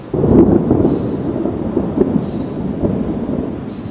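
Thunder from an approaching storm sounds as a low, heavy rumble that swells in quickly and keeps rolling with uneven surges, loud and close, with no voices.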